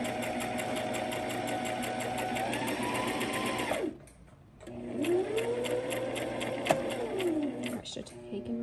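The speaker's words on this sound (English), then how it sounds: "you're going to put your foot down and just start sewing" A domestic sewing machine runs in steady bursts stitching head wrap fabric, with a brief pause mid-way before the whirring motor starts again, close and loud with a speaking voice.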